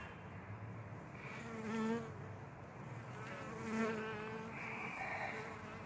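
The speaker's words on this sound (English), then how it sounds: "Dumb bee." Bees buzzing around a hive outdoors, a soft drone with individual insects swelling louder as they fly close past and fading again.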